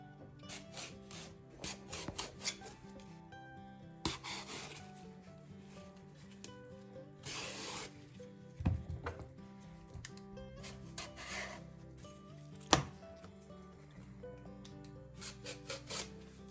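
Kitchen knife slicing eggplants into strips, a close series of irregular scraping and rasping strokes with sharp taps as the blade meets the board, quiet and unaccompanied by speech.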